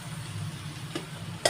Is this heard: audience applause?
no